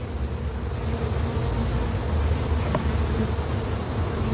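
Honeybees buzz in a dense, continuous drone around an open nuc hive in a garden apiary, loud and close throughout with no speech.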